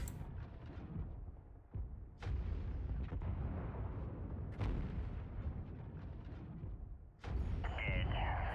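A mech takes heavy weapons fire in the video game MechWarrior 5: a dense, continuous barrage of booming impacts and blasts, fairly faint, with sharper hits standing out and a voice talking over it.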